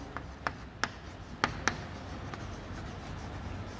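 Pen or marker strokes while writing out a kinematics physics problem, a handful of quick scratchy taps in the first two seconds, then a quiet room hum.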